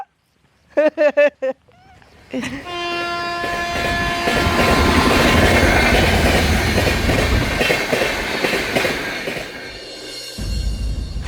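A train rumbles past with a sustained horn blast and clattering wheels, preceded by a few brief tonal whoops; loud and close, ending abruptly.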